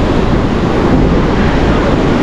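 Strong wind buffeting the microphone at a busy beach in Guarujá, a loud, constant roar blending with surf, with no talking.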